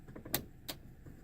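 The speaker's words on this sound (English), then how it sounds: "The sunroof goes back." A faint electric sunroof motor on a rusty Oldsmobile Toronado with a weakening battery gives two short, quiet whirring bursts, close by, with no talking.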